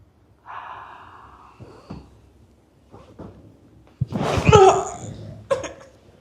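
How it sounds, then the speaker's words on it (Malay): A patient in a treatment session draws deep audible breaths through the nose and exhales, with gasps, sniffs and throat sounds, one louder, rougher burst near the end, between soft spoken instructions. "Tarik nafas dalam."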